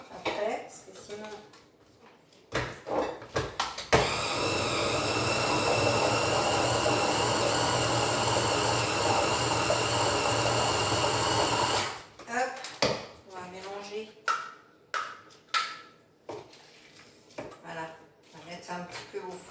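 A food processor blends a fish terrine mixture, a steady loud whirring motor run of about eight seconds, preceded and followed by someone talking in French with clattering handling sounds.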